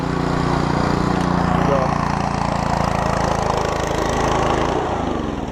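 A Simpson MSH3125 MegaShot gas pressure washer engine runs at a loud, steady idle close by, a continuous rumbling drone that dips slightly near the end, with a voice speaking faintly over it.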